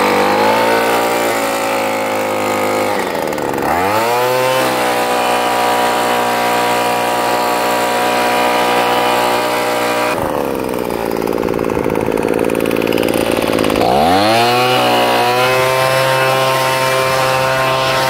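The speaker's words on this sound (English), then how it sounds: "We got the weed eater. It's out. It's warmed up." A gas-powered weed eater runs loud and close, its engine revving up and settling in repeated swells over a steady droning idle, with no talking.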